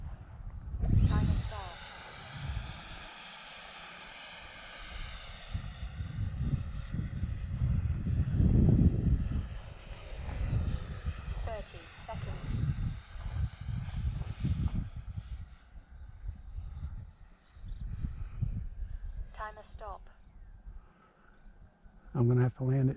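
An XFly RC model airplane flies overhead with a high whining motor that is loud at first, then fades and drops as it powers off to land, with people talking over it.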